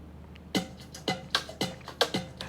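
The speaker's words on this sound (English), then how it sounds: "the kicks, and the loop sounds like this" Sparse drum loop of rim shots, hat percussion and kicks from a beat, playing a steady syncopated pattern of crisp close hits at moderate volume with no voices.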